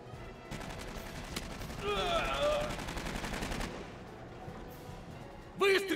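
Rapid bursts of gunfire in an animated series, sustained automatic-fire rattling over a noisy battle background, with a voice shouting briefly near the end.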